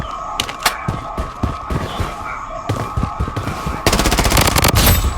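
Submachine gun fire in the shooter video game Blood Strike: quick bursts of rapid shots in short volleys, ending in a sustained, dense stretch of fire over a steady background drone.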